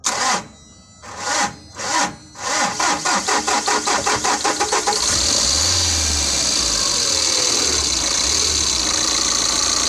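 Tata Intra V30 BS6 truck engine cranking in several separate bursts, then a quicker run of cranking strokes before the diesel catches and settles into a loud, steady idle, close by with no talking.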